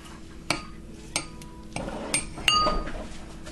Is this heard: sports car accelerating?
no